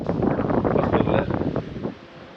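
Wind blows across the open first floor of a resort in Courtallam, a loud, blustery rush that buffets the microphone and then drops off near the end.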